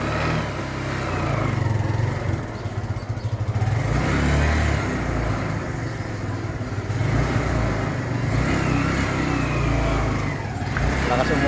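A Kawasaki Barako 2 motorcycle engine with heavy smoking, idling and revving loudly up close in a steady, rough roar that persists throughout.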